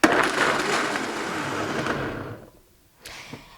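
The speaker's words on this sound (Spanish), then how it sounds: "Como esta batidora es profesional, pues aquí en unos segundos ya lo tenemos." A professional blender whirs loudly as it blends almonds with water, a dense continuous roar that cuts off abruptly, followed by a brief quieter clatter after a short pause.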